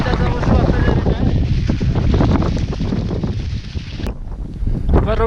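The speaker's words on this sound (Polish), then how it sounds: "Najgorszy jest wiatr." Strong mountain wind on Elbrus roars and buffets a nearby microphone continuously, loud and gusty throughout, with a short lull near the end and voices partly under it.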